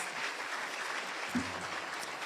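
Steady applause from a lunch crowd at a business luncheon, a continuous dense wash of clapping at moderate level with a brief bump near the middle.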